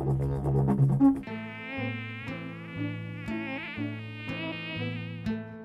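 A tsetse fly buzzes close by in a steady, tonal drone that pulses gently in volume for several seconds, with no other sounds.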